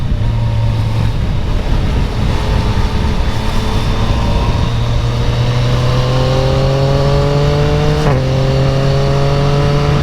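Yamaha Tracer 900 GT motorcycle accelerating hard through the gears, engine pitch climbing steadily with a quick shift near the end, loud and close on the road.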